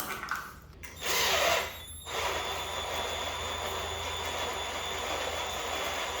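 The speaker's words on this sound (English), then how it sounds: "I'll go ahead and switch to my drill" A power drill whirs loudly for a short burst while working on a 1968 Mustang engine, then settles into a steady, continuous motor drone close by, with no talking.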